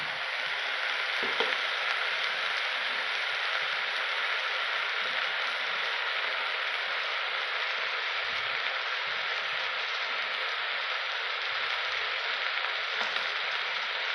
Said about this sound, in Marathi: लसूण टाकलाय शेकण्याला